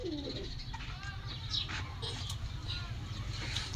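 Pigeons coo faintly at a rooftop loft against a low, steady background hum, with scattered light clatter and movement.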